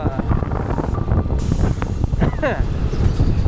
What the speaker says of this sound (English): like the wind blast is so crazy, man.